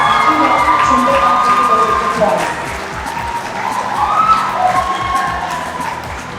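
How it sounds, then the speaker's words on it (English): Audience at a student union debate on the Naga political movement claps and cheers in a dense, steady wash of applause and voices, loud and close, with whistles and shouts rising over the crowd and easing slightly midway. "clap should continue"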